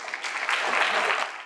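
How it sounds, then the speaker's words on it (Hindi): A burst of applause from a game show audience, steady dense clapping for about a second and a half, fairly loud and close. "जोरदार तालियां बजनी चाहिए"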